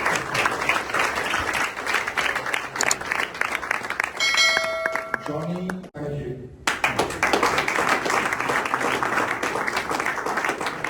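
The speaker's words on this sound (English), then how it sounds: "I want to give Lucy a huge round of applause." Sustained applause from guests at a property group reception in a local venue, a dense steady clatter of many hands that breaks off briefly while someone speaks, then resumes just as full and loud.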